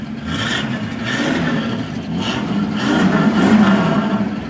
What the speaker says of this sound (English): I believe that's just the old single exhaust. It's got a nice sound to it.